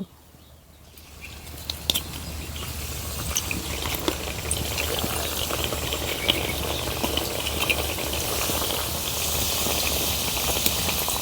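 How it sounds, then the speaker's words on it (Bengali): Cauliflower fritters sizzle in hot oil with a loud, steady crackling hiss and scattered pops throughout, building after a quiet start; nobody speaks. "এবার বাকিগুলো একইভাবে ভেজে নেব"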